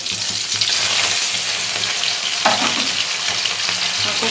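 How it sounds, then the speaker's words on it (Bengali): Small fish frying in a pan, a loud continuous oil sizzle close up with occasional scraping stir movements and no talk. "মাছ ভাজা বসিয়ে দিয়েছে। মাছটা এখন উল্টে দেবো,"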